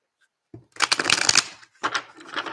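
Tarot cards shuffle and get tossed in two quick riffling bursts, crisp and close, separated by a brief pause, with no talk over them.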